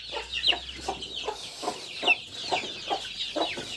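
Several hens cluck softly and continuously nearby in a flooded outdoor run, short murmuring calls overlapping in an uneven rhythm.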